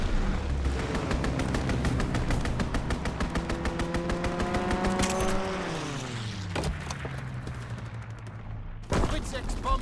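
Enemy strafing run in Call of Duty WWII: dense rapid gunfire bursts with a roaring aircraft engine sweeping past and falling in pitch, loud and close, ending in a sharp burst.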